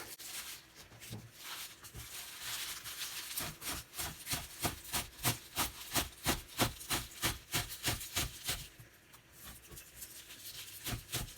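Knife chopping mushrooms roughly on a cutting board in a home kitchen, a steady run of quick, close knocks and rubs speeding into a dense rhythmic burst, with no talking.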